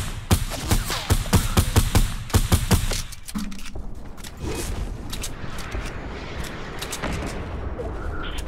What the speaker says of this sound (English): Look, they're shooting at me.